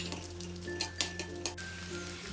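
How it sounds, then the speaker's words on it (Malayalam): Raisins frying in ghee, a faint quiet sizzle with a few light clinks of a spoon against the pan, no voices. "ഇതേ നെയ്യിൽ തന്നെ കിസ്മിസ് ഇട്ട് ഫ്രൈ ചെയ്തെടുക്കാം."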